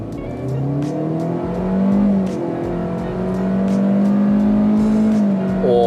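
A Kia Carens 1.5 accelerates hard in sports mode with kick-down, its engine note climbing steadily in pitch, dipping briefly at a gear change, then rising again, loud and close from inside the cabin.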